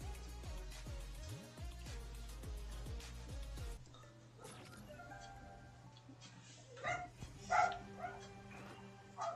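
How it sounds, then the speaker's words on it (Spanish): A small dog barks and yips a few times, coming through after a stretch of music stops, in short, uneven bursts against a quiet background. "Ah, pinche perrito"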